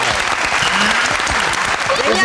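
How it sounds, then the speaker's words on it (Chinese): A studio audience on a Taiwanese talk show claps in a dense, continuous burst, with voices talking over the applause throughout. "来掌声鼓励一下"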